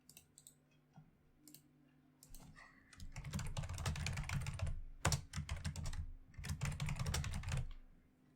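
Fast typing on a computer keyboard as player names are entered for a Yu-Gi-Oh! tournament match, clattering in dense bursts with short pauses between, close and clear with no talking.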